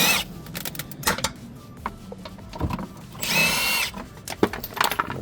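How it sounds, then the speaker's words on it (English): A power tool spins out two 10mm bolts from a plastic cover on a 2007 Toyota Sienna, with short whirring bursts, one longer steady run in the middle, and clattering handling noises in between. "we'll take off the two 10mm bolts right here holding this plastic cover"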